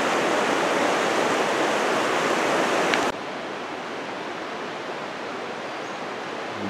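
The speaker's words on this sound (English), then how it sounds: "just a little bit of the Carbon River" Rushing water of the Carbon River at Mt. Rainier National Park, a loud, steady broadband roar that drops slightly in level midway but continues unbroken.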